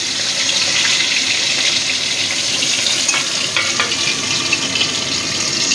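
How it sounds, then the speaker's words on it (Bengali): A steady, dense sizzle of khoira fish frying in hot oil continues throughout, loud and close, with a few faint clinks near the middle. "এবার আমি প্রথমে মাছগুলো অল্প একটু ভেজে নেব, বেশি কড়া করব না।"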